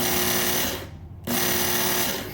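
A Work Sharp Mk2 knife and tool sharpener runs its belt at the low speed setting, giving a steady, close mechanical whine that briefly drops away mid-clip and then resumes.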